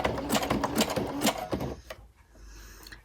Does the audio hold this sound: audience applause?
no